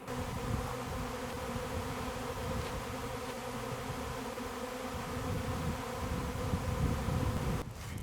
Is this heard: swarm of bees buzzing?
yes